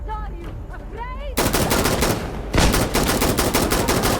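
Gunfire in the video game Insurgency: Sandstorm, loud rapid automatic bursts that start abruptly and continue densely, following a brief stretch of voice at the start.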